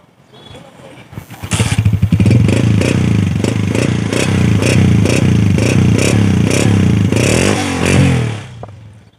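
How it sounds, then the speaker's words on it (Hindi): A 2009 Honda 125 motorcycle engine starts and runs close by, its loud steady exhaust note pulsing with repeated revs before cutting off near the end. "इसका भी साउंड सुनवाया आपको, होंडा 125 मॉडल 2009"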